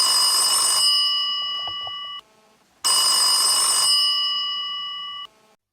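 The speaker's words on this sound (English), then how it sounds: "1 week later, the phone rings." A telephone rings twice in clear, loud bursts of bright electronic trills, separated by a short pause, with nothing else heard.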